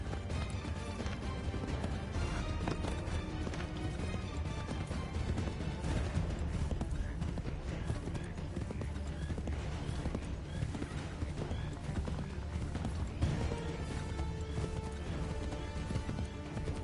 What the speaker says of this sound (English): Slow that horse down.